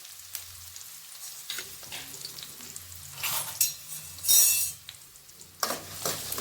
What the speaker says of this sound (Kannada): ಈರುಳ್ಳಿ ಮತ್ತು ಈ ಒಂದು ಮೆಣಸಿನ್ಕಾಯಿ ಏನದವಲ್ಲ ಈ ಎಣ್ಣೆ ಒಳಗೆ ಫ್ರೈ ಆಗಬೇಕು